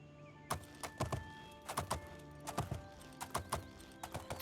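Horse hooves clip-clop in an irregular trotting rhythm while riding in the game Oblivion, crisp close knocks in small clusters against a quiet, faint tonal background.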